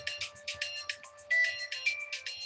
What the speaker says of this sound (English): Fancy ringtone there,